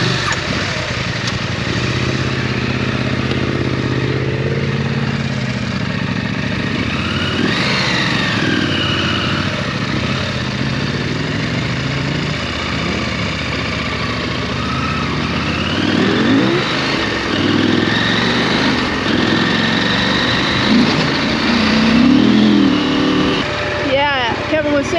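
A KTM 890 Adventure R motorcycle rides off-road through Idaho's hoodoos on a damp, muddy trail, its engine droning steadily close by with revs rising and falling under constant wind rush.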